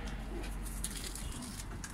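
Pigeons coo softly in a rooftop loft, low murmuring calls heard faintly over a steady background hum, with no clear talk.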